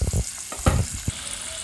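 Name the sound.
potatoes frying in oil until reddish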